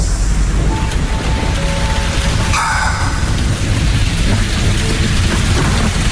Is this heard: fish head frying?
no